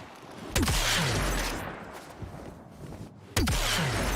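Two sharp booming blasts in the Warframe game, one near the start and another about three seconds later, each followed by a rumbling, crackling tail over a dense noisy background.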